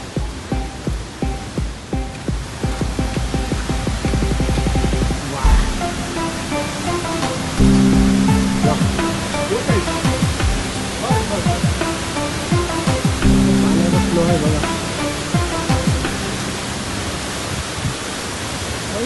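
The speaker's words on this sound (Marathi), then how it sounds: "हा जो पाणी पडते बघू शकता आपण, कसला स्पीड आहे पाण्याला" A monsoon waterfall near Rudreshwar temple in Goa roars as a loud, continuous rush of falling water, with bursts of handling noise and faint voices mixed in.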